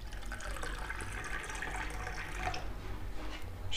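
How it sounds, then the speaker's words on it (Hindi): Water running steadily into a glass while a strawberry shake is made, a continuous splashing hiss with low background rumble and no talking over it. "अभी हम इसमें शामिल करेंगे पानी"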